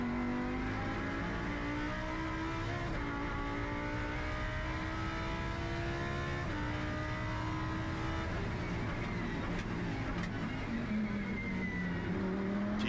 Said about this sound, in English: Let's just have a listen to this beautiful V10.